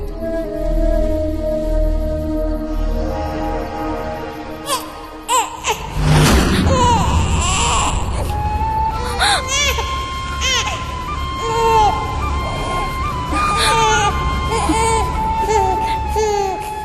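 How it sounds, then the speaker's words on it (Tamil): An infant cries in a dramatic television serial scene, its wails rising over loud background music and other sound effects. "என் குழந்தை ஏன் திரும்ப அழுது?"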